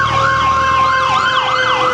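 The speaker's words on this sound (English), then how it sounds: "Ambulance." An ambulance siren wails in a city street in Quezon City, Philippines, its rising and falling tone cycling steadily and loud, close by, with no talk over it.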